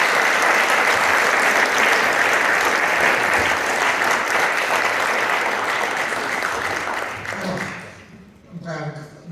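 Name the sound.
audience applause for a film critic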